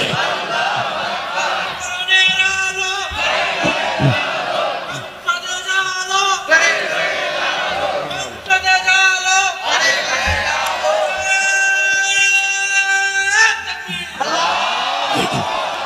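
A crowd at a waz mahfil chants the takbir, Allahu Akbar, in loud unison, with several sustained bursts of massed voices rising and falling one after another.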